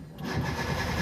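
A vehicle's engine, which had a check-engine light problem, cranks on its starter and runs with a loud, continuous rumble up close.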